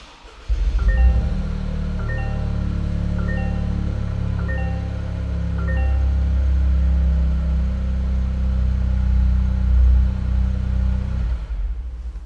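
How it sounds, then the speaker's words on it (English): A Toyota GR Corolla engine cranks and catches, then settles into a steady, close, low idle that swells slightly before cutting off near the end, with no talking. "Let's start the car and we'll see."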